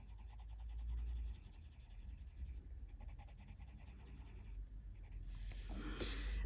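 Coloured pencil shading orange lightly across white paper with gentle pressure, a soft continuous scratchy rubbing that runs steadily throughout, close up and without talk.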